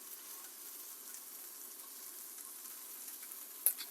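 A steak sears in a hot pan, giving a faint, steady broadband sizzle that holds evenly throughout, with one brief sharper crackle near the end.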